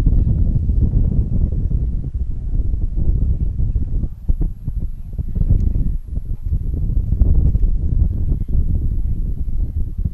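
Wind buffets a microphone over an open rugby field during an under-16 men's match, Alberta against British Columbia, as a loud, continuous low rumble with gusty swells and brief dips.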